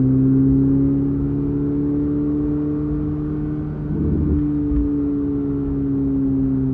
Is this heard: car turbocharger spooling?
yes